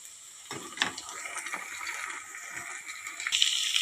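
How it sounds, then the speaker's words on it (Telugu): Onions sizzling in a pan as they fry toward light golden, a steady close hiss with a few sharper crackles and spatters rising near the end. "ఉల్లిపాయలు లైట్ అండ్ గోల్డెన్ కలర్ వచ్చేదాకా వేయించుకోవాలి."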